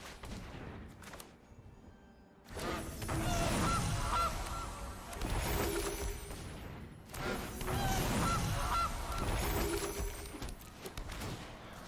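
Cartoonish goose honks from the MTG Arena digital card game, in two loud bursts of repeated honking and flapping after a brief quieter opening.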